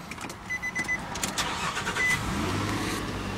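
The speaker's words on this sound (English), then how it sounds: "I'll start the car for you right now." A 2010 Nissan Pathfinder LE 4x4 with 44,000 miles cranks over with a few quick clicks and whirs, then catches and settles into a steady low idle.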